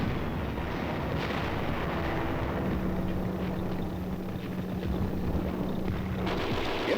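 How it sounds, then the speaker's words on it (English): Enemy artillery fire in Korean War footage comes through as a continuous low, rumbling roar with a dull distant boom near the end, with no voices. "Enemy fire is encountered."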